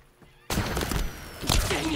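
Video game gunfire erupts suddenly after a quiet moment: a dense, loud rattle of rapid shots lasting through the rest of the moment, with another burst near the end.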